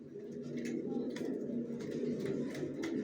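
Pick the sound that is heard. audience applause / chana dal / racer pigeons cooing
racer pigeons cooing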